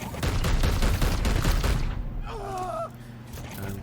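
Gunfire in the turn-based strategy game Chaosgate: a loud, dense volley of rapid shots that fades out, followed by a brief electronic warbling tone.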